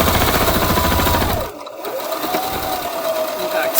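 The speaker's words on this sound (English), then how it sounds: "Okay, sewing this." A sewing machine stitches a fabric face mask in a loud, close, rapid run lasting about a second and a half, then stops while a voice and quieter handling sounds continue.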